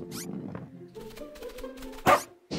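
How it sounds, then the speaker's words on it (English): A puppy gives a couple of short, high yips near the end, close and brief, following a few seconds of soft rustling and faint background sound. "Is that a puppy?"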